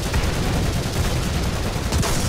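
Tank gunfire in the War Thunder video game during a beach battle sounds as a dense, loud, continuous barrage of rapid booming shots and rumbling explosions.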